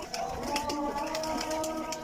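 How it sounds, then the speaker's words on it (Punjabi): Pigeons cooing softly in a loft of breeding pairs, low repeated coos close by, faint and steady over a couple of seconds with light background noise. "ਵੇਖੋ ਕਬੂਤਰ"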